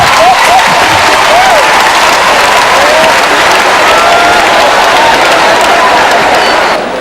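A large crowd claps loudly and steadily, with scattered whoops and cheers rising over the applause before it begins to fade.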